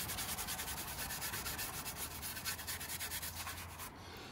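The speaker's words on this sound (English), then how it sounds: "on this side, same thing, we're gonna clean it. I even got this like Scotch-Brite thing." A Scotch-Brite pad scrubs the surface of a VW Golf Mk1 valve cover in fast, steady back-and-forth strokes, producing a close, rhythmic abrasive rasp that softens near the end.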